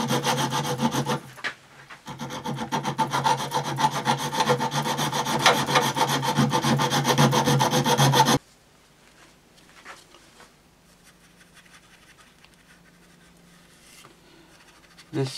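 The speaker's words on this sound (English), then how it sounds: "I'm going to have to file away quite a bit." A file rasps against wood to enlarge the aperture on a pinhole camera, loud and rapid back-and-forth strokes for several seconds, then quieter scattered scraping and taps.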